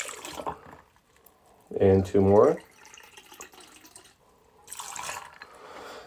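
Aperol pours from a bottle into a cocktail glass, a brief liquid gurgle between bits of talk, with people chatting before and after.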